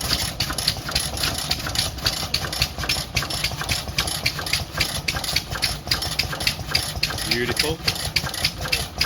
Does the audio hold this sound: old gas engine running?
yes